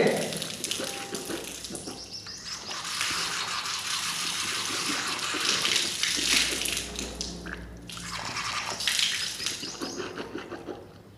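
Water splashing and running steadily as hands are washed for wudu (Islamic ablution), a continuous close wash of pouring and splattering water with small shifts in intensity and no talking.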